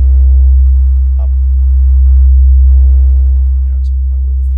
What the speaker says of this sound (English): Right, there we get our really good, nice distortion that we like